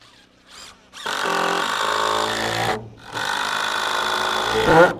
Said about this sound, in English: I'm actually gonna switch to my cordless, and I'm gonna use these 3-inch number 12s